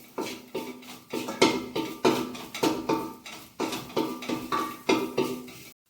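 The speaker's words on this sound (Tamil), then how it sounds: "அதிமதுரம் வதங்கினதுக்கு நல்லா லைட்டாக வறுத்துக்கணும் வறுத்து எடுக்கணும்" Licorice root pieces dry-roasted and tossed in a metal pan, about a dozen rhythmic rattling scrapes in steady strokes, close and clear with no voices.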